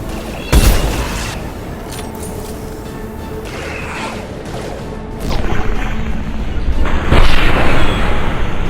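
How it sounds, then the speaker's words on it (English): Gunfire and booming blasts from combat in the video game Mass Effect 2, a heavy impact early on and more loud bursts toward the end over a constant rumbling background. "Stop shooting, Shepard."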